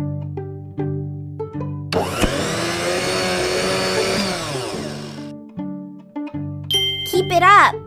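A kitchen blender in a children's math game whirs loudly for a few seconds to make a smoothie, set between chiming game tones and a rising synthetic sweep at the end.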